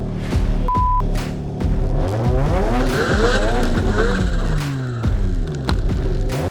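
Mazda RX7 race car with a 20B rotary engine at a track, nearly crashing: the engine wails loud and close through rising and falling revs, with sharp tire squeals and skidding as the car slides.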